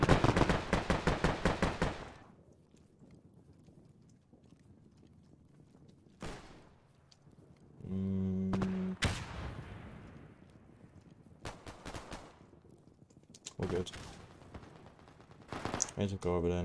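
Machine gun fire in the World War II shooter Frontline, set at Karelia's Yläsäiniö railway station, with loud rapid bursts at the start and scattered shots and blasts after, some near and some distant.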